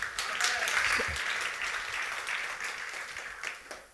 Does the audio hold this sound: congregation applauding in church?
yes